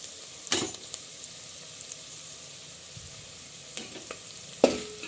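Drumstick gojju masala with chili powder being mixed and frying in a pan: a faint low sizzle broken by a few sharp spoon scrapes and clinks against the pan.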